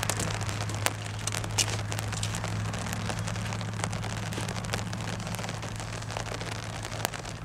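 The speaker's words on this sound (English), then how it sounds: "This ain't even 5 o'clock and it's raining." Rain falling in late afternoon, a steady close hiss of drops pattering on surfaces with scattered sharper taps, continuous throughout with no voices.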